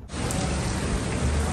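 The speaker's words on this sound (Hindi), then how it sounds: "हल्की हल्की बारिश लगी हुई है।" Steady light rain falling outdoors, a dense even hiss of drops that fills the whole moment with no voices.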